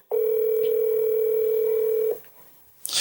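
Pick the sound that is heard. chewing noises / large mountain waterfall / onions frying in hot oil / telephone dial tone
telephone dial tone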